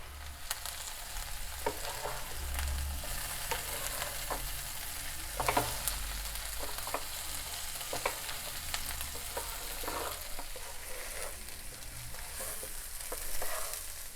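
A potato curry with rock salt and turmeric sizzles gently in a pan on a gas flame, with scattered scrapes and clinks of a spoon stirring over a steady low fry, no voices.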